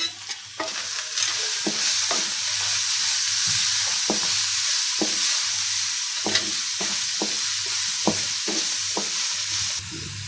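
Garlic ginger paste, tomatoes and green chillies frying in a pan for a masala karela dish, a continuous sizzle broken by repeated sharp stirring clicks of a spoon, close and alone.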